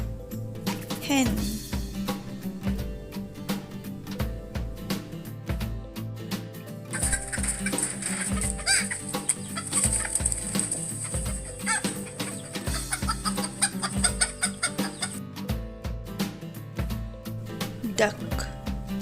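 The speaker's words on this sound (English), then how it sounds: "Hen." A hen clucks in short repeated calls, near and clear over a continuous musical backing, with a brief rising squawk early on.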